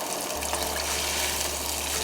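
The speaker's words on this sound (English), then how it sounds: "So you put 3 cups of water." Water pours steadily into a pot of rice, a continuous close gush and splash with a low filling rumble, no talking.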